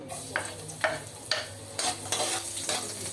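Garlic frying in cooking oil for sardines, a soft sizzle broken by several spaced scraping strokes of a spatula against the pan, close and fairly quiet.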